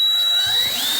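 An electric drill fitted with a bit whines at high pitch as it bores into plastic tubing for a terrarium misting setup, a loud, steady burst lasting about a second.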